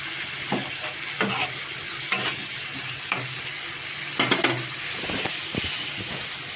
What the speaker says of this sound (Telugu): సొరకాయ ముక్కలు కూడా వేసేద్దాం. సొరకాయ ముక్కలు వేసాం కదా,